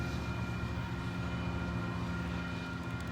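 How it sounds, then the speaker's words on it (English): A train passing outdoors, a sustained broad rumble with a steady whining tone, loud and continuous throughout with no talking. "We're going to take a pause for the train."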